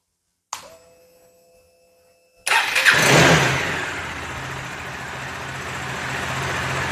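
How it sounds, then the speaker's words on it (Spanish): A brief starter whine, a pause, then a Bajaj Dominar 400 motorcycle engine fires up with a loud burst and settles into a steady, close idle. "Ahora vamos a prender nuestra motocicleta."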